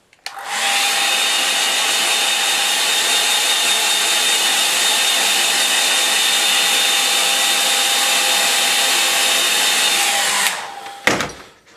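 A hair dryer blows a steady, loud, continuous whir with a faint whine as it dries a line-and-wash watercolour painting of boats, then cuts off near the end with a brief clatter.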